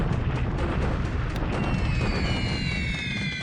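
Rumbling bombing explosions from the strategy game War in the Pacific: Admiral Edition, a deep, continuous booming roar with a sharp crack partway through, followed by whistling, falling tones as the blasts continue.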